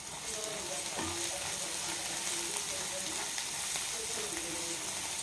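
Prawns frying in a pan for a Telugu prawn curry, giving a steady close sizzle with scattered crackles throughout and a few faint stirring clinks.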